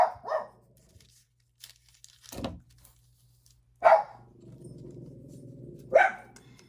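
A dog barks a few times with long gaps between, single sharp barks over a low steady hum.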